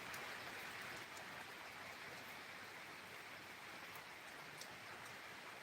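Rain falls steadily during a low-pressure storm, a faint, even hiss of drops that holds without a break and has no voices over it.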